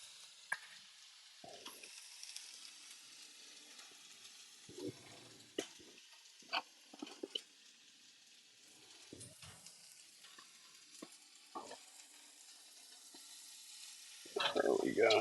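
Onions sizzle loudly in a hot pan for mixed fajitas: a steady frying hiss broken by scattered clacks of stirring, with a louder burst of sizzling near the end.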